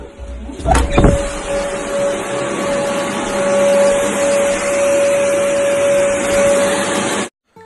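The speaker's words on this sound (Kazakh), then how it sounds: "Үй тазалап отыр. Пылесос істеп отыр ма?" A vacuum cleaner runs while a house is being cleaned, giving a steady, loud droning whine with a couple of bumps at the start, then cutting off abruptly near the end.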